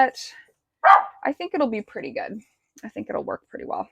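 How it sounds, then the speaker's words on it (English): A pet dog gives a short burst of barks near the start, loud and close, followed by a person talking while working on upcycled yard art among sedum plants in a garden. "Sorry for the dog noises"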